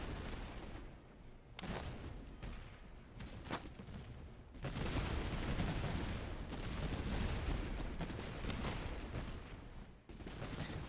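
A regiment opens fire in the strategy game Master of Command. Scattered sharp shots give way to a sustained, rumbling fusillade of massed musketry heard at a moderate distance and fairly low in level.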